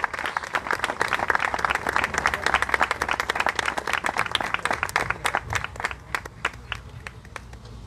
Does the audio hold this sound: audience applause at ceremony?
yes